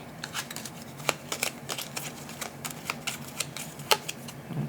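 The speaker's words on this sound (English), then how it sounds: "and then we'll shuffle the rest and draw 1 more." Cards for the GATE board game are shuffled by hand at a table, a quick series of crisp riffling snaps and soft flicks, close and moderately loud, with no talk.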